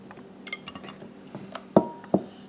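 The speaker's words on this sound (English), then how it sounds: "I'm going to stir it up again." A utensil stirs brownie batter in a bowl, making soft scraping swishes broken by a few sharper clinks and knocks against the bowl's side, close up and without talk.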